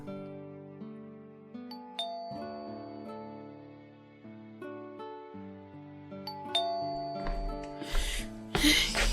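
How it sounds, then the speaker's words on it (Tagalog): A doorbell chimes at a house, its bright tones rising over a sustained musical background of layered notes, with a louder burst of chiming near the end. "Makapag-doorbell nga."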